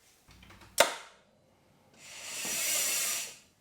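A mountain bike part cut to length during a bike build: a brief rasping cut ending in a sharp snap, then a quiet pause and a longer, softer hiss, close and alone.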